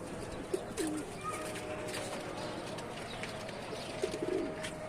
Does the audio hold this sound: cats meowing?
no